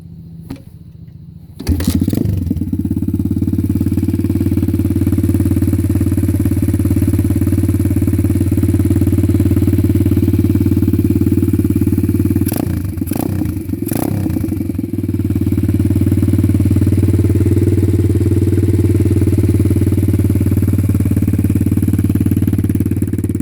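A 2017 Apollo DB-X18 RFZ dirt bike with a loud open exhaust starts with a short burst and then idles steadily and loudly. A few sharp revs come around the middle, and the engine settles back to a rough, constant idle.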